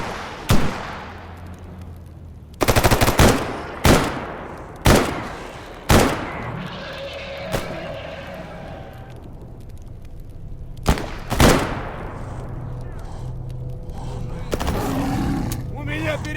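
Bursts of gunfire in the modded shooter S.T.A.L.K.E.R. G.A.M.M.A. (Anomaly modpack): a string of sharp, loud shots at irregular intervals, some in quick doubled bursts, over steady ambient game noise with occasional talk.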